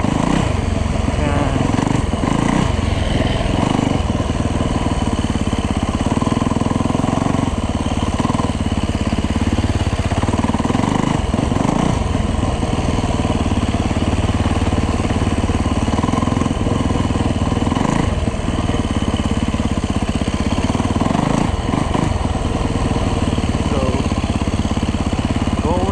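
A Yamaha dirt bike, a YZ450F or WR250F, runs in packed snow, its loud engine droning steadily and close for the whole stretch, rising and falling slightly with throttle, while a voice talks intermittently over it.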